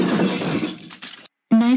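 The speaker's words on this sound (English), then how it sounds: "You just crashed the car into a lamppost." A cartoon car in a Scooby-Doo episode crashes into a lamppost with a loud shattering, breaking burst that decays into scattered debris, then brief silence before a voice begins.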